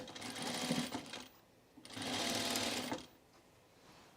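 A sewing machine runs in two short close bursts while a button-up shirt is sewn and the stitch is walked slowly, with quiet pauses between the runs.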